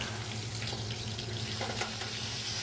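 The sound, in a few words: sausage browning in a pan for Cajun duck cassoulet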